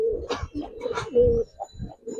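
Giribaz pigeons of an old Dhaka breed coo in repeated low, throaty phrases close by, several calls in a row with brief gaps and no talking.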